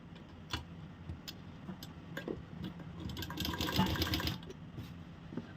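A sewing machine stitches the seam of a salwar, its needle running in a quick, steady mechanical patter close by that builds slightly louder toward the end, with no talking.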